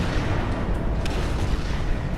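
A ship weapon in Space Engineers fires rounds in a dense, continuous barrage of deep booms that blur into a steady rumbling roar, loud and close, with no voices.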